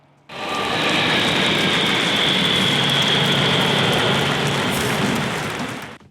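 Antonov An-225 Mriya, the largest plane in the world, flying over Khreshchatyk Street during a parade, a loud sustained roar of jet engines that swells in abruptly and holds steady before fading out.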